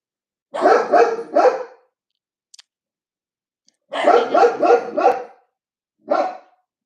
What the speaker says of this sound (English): as soon as they're done barking